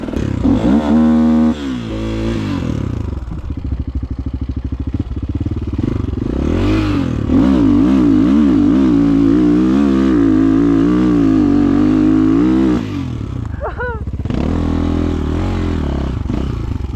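A Rottor Nemesis 250 motorcycle engine revs hard and close, its pitch climbing and falling in repeated surges with a brief dip before roaring up again, loud and unbroken throughout.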